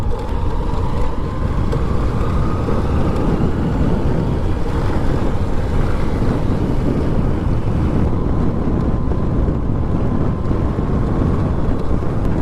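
Strong wind roars steadily across the microphone during a motorbike ride on the Malshej Ghat hill road in Maharashtra, a loud, constant broadband rush with no break and no voices.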